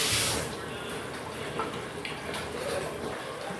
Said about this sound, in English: I'm going to go ahead and rinse my hands real quick so I can get hold of this properly